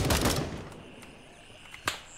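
Hip-fired gunshots in Gray Zone Warfare gameplay, a loud rapid burst of automatic fire at the start, then a fading echo and one more sharp shot.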